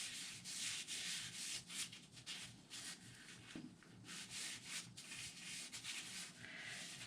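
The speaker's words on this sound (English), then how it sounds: "I was going a bit fast for the sanding" A wooden burl spinning on a lathe is sanded in a rapid, even rasping rub, with the pass pulsing in short strokes. It sounds close and fairly quiet.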